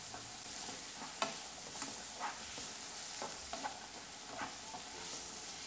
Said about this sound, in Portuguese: Aí aqui eu vou deixar mais 1 minutinho fritando, tá? Dando uma refogada.